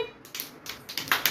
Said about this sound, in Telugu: పిల్లలు పిల్లలు క్లాప్స్ కొట్టండి.